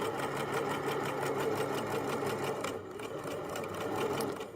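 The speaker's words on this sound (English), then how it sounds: "continue sewing down the edge here, and I'll backstitch at the end" A sewing machine stitches down a fabric edge, its needle chattering in a fast, steady mechanical rhythm, close up and continuous with no voices.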